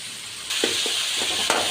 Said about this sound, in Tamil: இப்போ நமக்கு தக்காளி வெங்காயம் நல்லா வதங்கிடுச்சு.